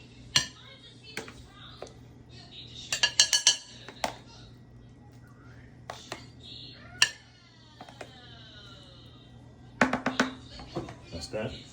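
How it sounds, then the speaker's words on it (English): Cutlery and dishes clink in sharp, scattered knocks and rattles as a Sunday brunch of cheesy eggs, buttered grits and more is plated, with someone talking throughout. "Now we're gonna plate everything up."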